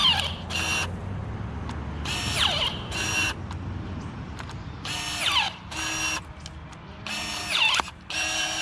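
Cheap 21V battery-powered pruning shears cutting a roughly 3/4-inch branch outdoors in several short, whirring motor bursts separated by pauses.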